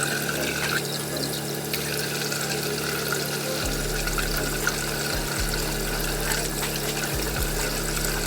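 Tap water runs steadily from a kitchen faucet while boiled eggs are peeled, a continuous broadband wash with a few faint clicks and knocks of shell and plate underneath.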